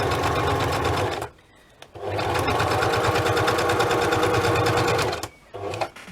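A sewing machine runs a zigzag decorative stitch through paper pages of a junk journal, a loud steady whir of rapid stitching with a short pause in the middle and a brief burst near the end.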